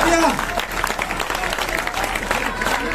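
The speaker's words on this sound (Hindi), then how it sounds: "तालियां।" Vigorous applause fills a school hall during an Eid-e-Milad prize-giving for children in Bhusawal, a dense, loud clatter of many hands, with a voice heard briefly at the start and chatter mixed in.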